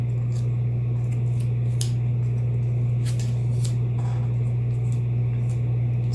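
Scissors snip through paper to cut out handmade planner stickers, with a series of quick, close, crisp cuts scattered over a steady background hum.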